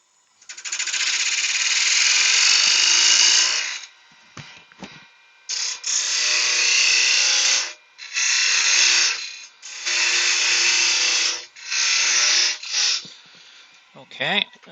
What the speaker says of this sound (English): So we get a parting tool